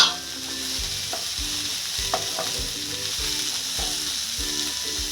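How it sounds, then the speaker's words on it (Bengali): Chopped onion and soaked red chilli sizzle in a pan for a village-style onion chutney, with steady frying crackle and repeated close scrapes of stirring throughout. "পেঁয়াজটা একটু ভালো লাল লাল ভাজা হবে"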